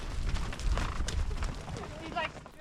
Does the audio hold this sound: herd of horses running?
yes